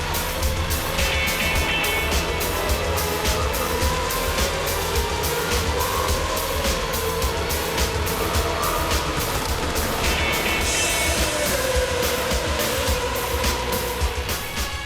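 A1GP World Cup of Motorsport race cars run three abreast toward the finish, their engines a loud, continuous, close roar that holds steady for the whole stretch without a break.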